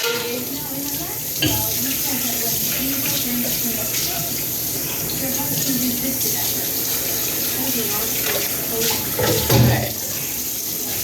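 Pots and pans hand washed under a running kitchen tap, a steady rush of water with occasional clinks and knocks of cookware, close and continuous, with a brief spoken word partway through.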